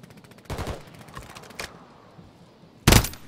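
Gunfire in Call of Duty: Warzone Rebirth, with a few loud broadband bursts of shots set apart by short pauses, the final burst loudest and closest.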